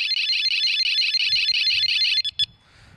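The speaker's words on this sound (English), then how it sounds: "triggering a very loud alarm system, hopefully deterring theft from your toolbox." A Doberman Security toolbox alarm shrieks in a loud, rapidly pulsing high-pitched electronic tone, then cuts out with two short final bleeps, close and alone.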